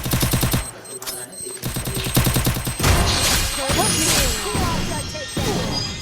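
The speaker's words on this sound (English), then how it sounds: "When you're outnumbered, a grenade. Be careful. You might get hurt if you're too close." Grenade and gunfire in a video game: rapid bursts of automatic shots are followed by a heavy blast with crashing debris, all loud and close, while a game voice speaks over the action.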